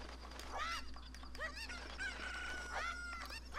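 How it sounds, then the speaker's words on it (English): Chirpy, warbling fowl calls from a cucco chicken in The Legend of Zelda, several bursts in quick succession over steady game background hum, fairly close and clear. "Okay, don't lose the chicken."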